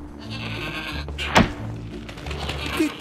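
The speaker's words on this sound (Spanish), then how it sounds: "¡Qué cabra más sorprendente!" A goat bleats once, loud and close, in the video game Trine 4: The Nightmare Prince, over steady game music and ambience, with a soft thunk nearby.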